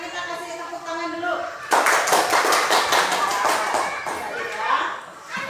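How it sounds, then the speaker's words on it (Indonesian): A classroom group claps hands together during a school exam session, a burst of rhythmic, fairly loud applause that starts abruptly after a spoken prompt and continues for several seconds, with voices around it. "sekarang kita kasih tepuk tangan dulu"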